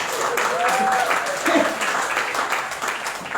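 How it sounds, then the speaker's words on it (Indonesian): Applause from a church congregation rises as a broad, continuous clatter of many hands through the whole stretch, with a voice speaking faintly over it. "Wih, tepuk tangan dulu dong."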